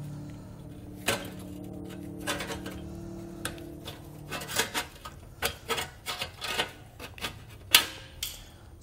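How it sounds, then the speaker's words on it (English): A heat shield on a 2012 Ford Edge has its rounded corner cut out during a trailer hitch installation. Quiet scraping comes first, then a run of crisp, close snipping and crunching clicks in an irregular rhythm. "We're just going to sort of cut out this rounded corner here."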